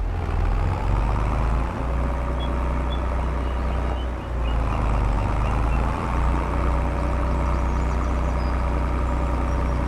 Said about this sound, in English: I'm gonna turn the tractor so it faces this way, so it doesn't bother the tractor turning around